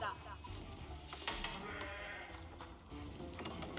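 Sheep bleating in a medieval strategy video game, a short burst of bleats layered over game ambience and sound effects, with commentators talking over it.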